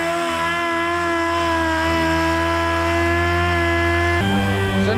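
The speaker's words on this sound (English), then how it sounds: "So now the sander's running" A power sander runs steadily on Bondo and rust on a Chevy square-body truck, making a continuous whirring hum with a slight shift in tone near the end and no voices.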